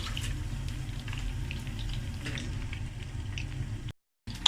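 Food frying in hot oil while bread pizza is being made, a steady soft sizzle and bubbling, close and fairly quiet, with a brief dropout near the end.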